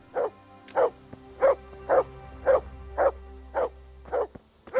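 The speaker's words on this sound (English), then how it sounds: "Because he's barking like mad." A dog in the medieval game Kingdom Come: Deliverance barks repeatedly in a steady rhythm, about nine loud, evenly spaced barks at close range over a faint low hum, with no talk.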